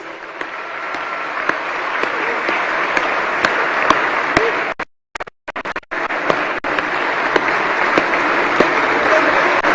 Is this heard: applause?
yes